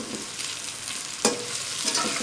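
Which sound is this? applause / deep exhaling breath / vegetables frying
vegetables frying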